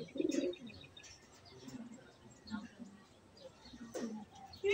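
Soft low pigeon coos come in short bursts, mixed with a few faint chirps and light rustling, fairly quiet overall.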